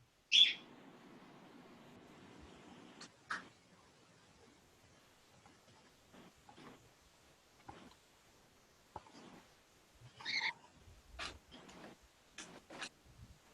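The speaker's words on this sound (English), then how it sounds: "Is that a bird I hear?" Pet bird indoors giving sparse, short high chirps and calls, scattered and faint against a quiet room.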